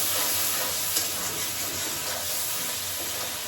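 Spice paste (masala) being fried in a home kitchen, giving a dense, steady hiss and sizzle with faint stirring, continuous and fairly close with no voices.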